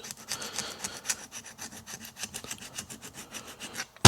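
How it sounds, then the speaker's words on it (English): Plastic scraper scraping carbon deposits off an aluminum piston from a Subaru engine, quiet rhythmic rubbing strokes in quick succession, close and alone. "Plastic scrapers are good for this sort of thing too."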